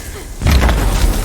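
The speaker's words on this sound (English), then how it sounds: "here's again classic projectile flying in and like cut to a different game's explosion" A video game sound effect of a projectile flying in, then an explosion: a quiet lead-in breaks into a loud, broadband boom that rumbles on without a clean end.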